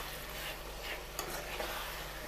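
Eggplant and tomato for baingan bharta are stirred in a hot pan, producing a faint, steady sizzle with a couple of light scraping touches over a few seconds, without any talk.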